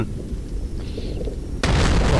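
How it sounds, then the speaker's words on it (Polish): Volcano eruption in the video game From Dust, a low rumbling roar that bursts suddenly into a loud, dense, broadband blast near the end of the clip. "wybuch wulkanu, piękny wybuch"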